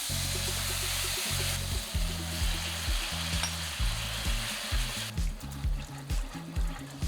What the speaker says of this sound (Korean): 고추장을 넣어 볶고 약한 불에서 물을 조금씩 추가하며 섞습니다